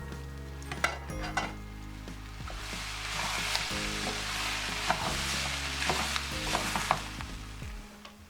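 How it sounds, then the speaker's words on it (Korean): Onion, carrot and celery stir-fried hard in a pan until nearly charred. A continuous close sizzle runs under repeated scraping and the clatter of a utensil against the pan. No voices are heard. "양파, 당근, 샐러리가 태우듯이 잘 볶아졌으면"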